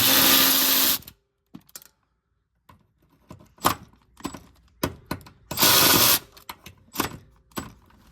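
Ratchet clicking on E-Torx bolts on a BMW F30 during a transmission and transfer case job, with bursts of loud close mechanical rasping and scattered short clicks and clunks in between.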